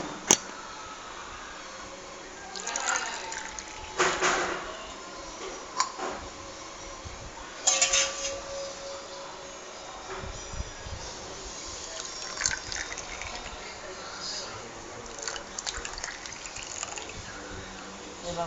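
Coconut water poured into a container for freezing into ice, soft intermittent splashing and dripping with a few clicks, fairly quiet against low background hum.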